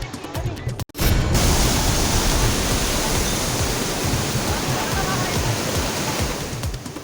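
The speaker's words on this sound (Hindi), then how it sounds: "देखिए कितनी भीषण लहरें हैं।" Raging floodwater waves roar in a loud, dense, continuous rush close by after a brief cut at the start, with no other sound standing out.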